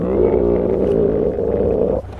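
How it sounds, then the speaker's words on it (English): An aardwolf puffed up in a standoff with a lion or leopard lets out a loud, sustained growling roar that holds steady for about two seconds, then drops off abruptly, with no talking over it. "the aardwolf puffs itself up and goes,"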